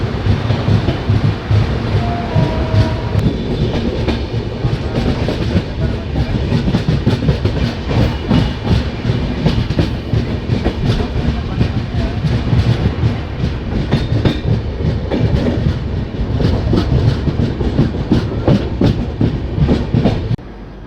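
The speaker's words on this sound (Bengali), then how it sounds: "ট্রেন জঙ্গলের ভিতর দিয়ে কার্ভ নিয়ে ধীরে ধীরে বারাণসী জংশন এন্টার করছে" A train curving slowly through forest toward Varanasi Junction on the New Delhi–Malda Town Express route fills the clip with a loud, steady rumble and a continuous fast clickety-clack of wheels, with no voices.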